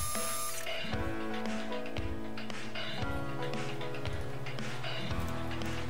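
Lathe machining cuts on a piston for a Chevy 454 big block build, a steady metallic whine with repeated rhythmic pulses and ticking clatter, close and continuous throughout.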